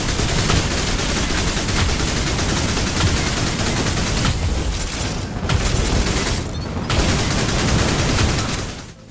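Relentless gunfire and booming explosions from the first-person shooter game Mothergunship, loud rapid bursts stacked over each other with only brief gaps in the barrage.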